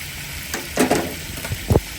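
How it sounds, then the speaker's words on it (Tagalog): Ginger and onion sauté in a pan for fish escabeche, a soft sizzle broken by several short clattering stirs and scrapes close by, with no voices. "Lain natin yung ating luya kanina. Sunod natin yung ating sibuyas."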